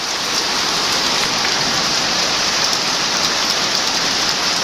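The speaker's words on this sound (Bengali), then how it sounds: "আমরা তো দেখতেছেন প্রচণ্ড পরিমাণ বৃষ্টি হচ্ছে" Heavy rain pours down steadily in Faridpur district, Bangladesh, a dense, even hiss of drops on surfaces that stays loud and unbroken throughout, with no voices.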